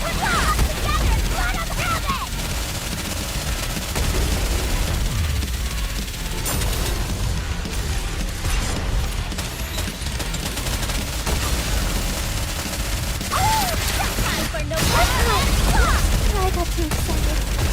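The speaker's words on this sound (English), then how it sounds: "Missiles." Missile fire and explosions in the video game Nikke, dense continuous booms and rapid gunfire under game music, with a voice talking in places.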